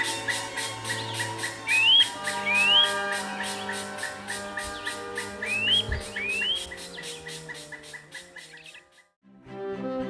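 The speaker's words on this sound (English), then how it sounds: "We'll take a few moments to thank the beautiful birds for their melodious music." Songbirds chirp and whistle in repeated rising notes over a steady bed of rapid, rhythmic chirping, with the chorus cutting off briefly near the end.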